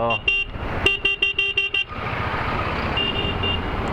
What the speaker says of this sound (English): Some traffic.